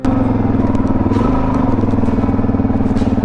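Suzuki DRZ400 dirt bike with 15/38 gearing working up rocky single track, its engine a steady loud rapid thumping drone held on the clutch, with faint clatter over the continuous note.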